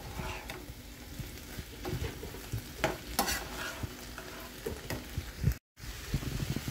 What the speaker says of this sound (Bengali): বিফ দেওয়ার পরে আমি 3 মিনিটের মতন ভেজে নেব।